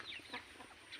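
Chickens and ducks in a flooded village near Telamor, Assam, cluck faintly in short, scattered bursts against a low, steady background.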